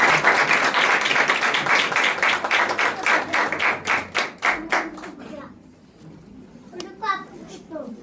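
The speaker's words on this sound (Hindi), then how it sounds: "जोरदार ताली बजा सकते हैं" A congregation at a church service claps to welcome someone speaker, beginning as a dense burst, settling into rhythmic unison claps that fade out, followed by quieter voices and someone speaking.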